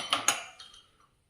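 Dishes are set into a Bosch dishwasher, two quick bright clinks of metal and crockery followed by a softer knock and a faint final tap, close and otherwise quiet.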